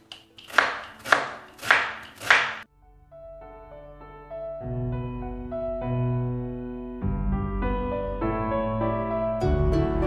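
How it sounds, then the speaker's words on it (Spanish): A knife chops an onion on a cutting board in four quick, evenly spaced strikes, then music takes over. "Vamos a cortar la cebolla, como la corto yo es así."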